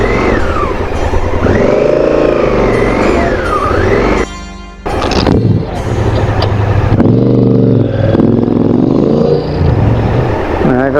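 Motorcycles are ridden into a parking lot during a round-the-world motorcycle trip, their engines droning loudly and steadily up close, shifting pitch as they rev and slow, with a brief dip midway.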